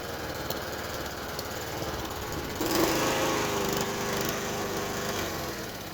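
An old Honda GCV160 Quadra Cut lawn mower engine runs steadily at close range, a continuous buzzing drone that swells slightly partway through, with no talk.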